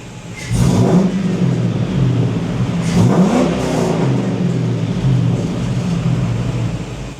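An LS-swapped car engine runs at a strong idle nearby, with a couple of short revs rising and falling over a steady rumble, no talking.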